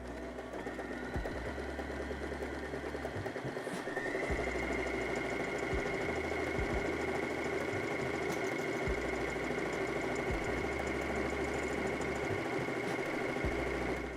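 A budget sewing machine runs a stretch straight stitch through stretch fabric, a continuous low motor hum with rapid needle knocking, steady and close, with a slight shift in pitch partway through.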